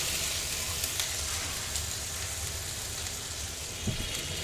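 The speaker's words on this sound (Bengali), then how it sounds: "মশলা ভালো করে কষাইতে হবে, ভাজা ভাজা করতে হবে, নাহলে একটা কাঁচা গন্ধ থাকবে বন্ধুরা" Spice paste of ground ginger and cumin sizzles in hot oil while being fried for a katla fish curry, a faint, steady crackle with occasional soft stirring sounds.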